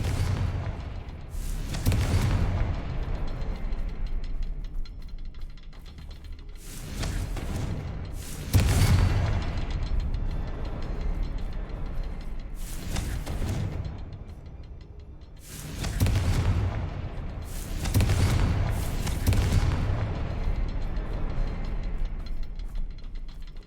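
Confringo explosive spell blasts in Hogwarts Legacy, a series of about eight booming bursts in uneven clusters, each a sharp broadband crack over low rumbling, moderately loud and without talk.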